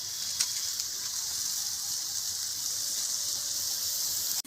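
Curry made with spiced mustard paste, turmeric and Kashmiri chili powder bubbles and sizzles in a pan, a steady close hiss running unbroken throughout with a faint tap or clink near the start.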